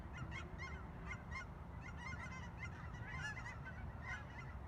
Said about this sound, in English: All these geese up there.